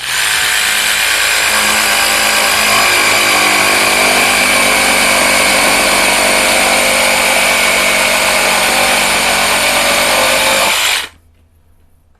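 A Ryobi 18V one-handed reciprocating saw cuts steadily for about eleven seconds, a loud, continuous buzzing drone that stops abruptly, leaving near silence.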